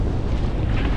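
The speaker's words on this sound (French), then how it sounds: "Il y a du vent." Strong wind gusts across a sailboat's microphone as the boat leaves harbour in the Northern Sporades, Greece, a steady loud broadband roar throughout.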